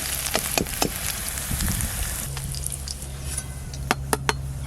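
Onion and garlic fry in a pan with a steady sizzle, while a utensil scrapes and clinks against the metal in a few sharp taps. Midway a low hum joins the frying.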